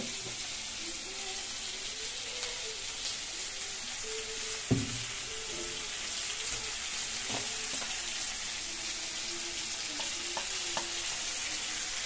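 Onions and tomatoes sizzle in a pan for a Bengali bata fish jhal with poppy seed, a steady close crackling fry broken by occasional knocks and scrapes of stirring.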